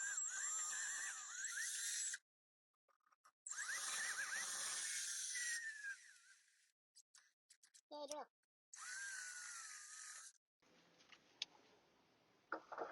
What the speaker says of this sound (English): Very carefully drill this out to 3/8.